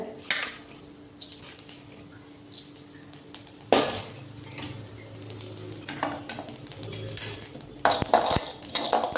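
Cumin seeds being dry roasted in a pan with a utensil, giving scattered clinks and scrapes up close, while pigeons coo faintly in the background.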